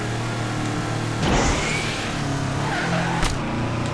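A car engine in the tabletop racing video game Table Top Racing World Tour revs steadily at mid pitch, with a louder surge partway through and a brief sharp burst near the end, continuous and close.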